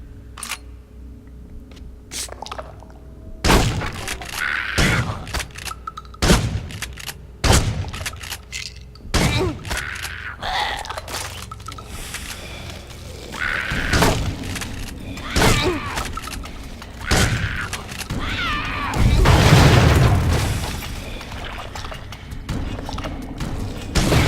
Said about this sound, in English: I think I throw a grenade in here and you'll see it blows out the lights